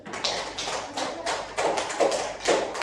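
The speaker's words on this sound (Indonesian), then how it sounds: "Beri aplaus" Classroom applause during a microteaching lesson: a short burst of uneven, patting claps from a small group, moderately loud and close, with no talking.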